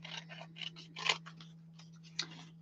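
Scissors cutting down a piece of paper for an altered envelope: a quick series of close, crisp snips and rustles, faint overall, with no talk.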